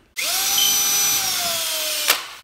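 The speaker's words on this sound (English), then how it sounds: "I'm gonna drill a hole right there and put it in." A power drill whirs at steady high speed while boring a hole in a door for a Frost King slide-on vinyl door bottom seal, running loud and alone for about two seconds before winding down with a brief final clunk.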